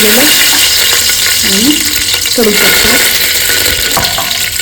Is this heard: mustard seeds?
yes